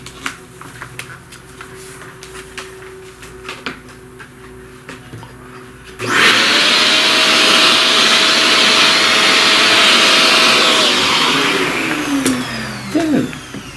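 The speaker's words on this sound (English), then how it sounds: "Let's vacuum up this." A vacuum cleaner switches on partway through and roars steadily, loud and close, sucking up pastel dust from a pastel flower drawing, then winds down near the end after a quieter stretch of room sound.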